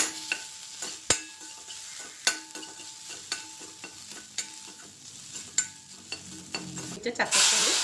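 Mustard seeds and chilli sizzle in hot coconut oil for a Kerala jackfruit seed and spinach stir fry, with sharp popping crackles scattered irregularly over a quiet fry, ending in a louder hiss.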